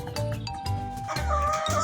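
Hens cluck and croon in a steady jumble, fairly close, with a busy rustling background and no talking.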